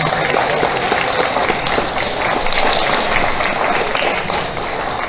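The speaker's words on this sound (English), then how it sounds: "How about a big round of applause, please?" Applause from a crowd at a school assembly, dense steady clapping that fills the space throughout with no pauses, loud and sustained.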